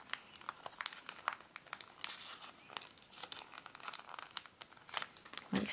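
Origami paper is folded by hand to form a minimalist Santa's feet, giving quiet, close crinkling and crisp creasing snaps in an irregular rhythm, with no talking.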